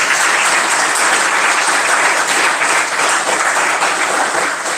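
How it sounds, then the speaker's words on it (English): Loud, dense applause from an audience at a live community event fills the room evenly, a steady wash of many hands clapping without pause. "Please give him a massive, massive round of applause as well again."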